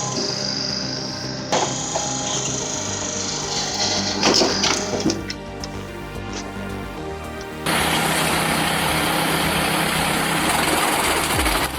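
A single-shaft wood chipper with dual blades and a 6.5 HP engine runs steadily and loudly, its drone shifting partway through into a harsher, denser roar as it tears through branches.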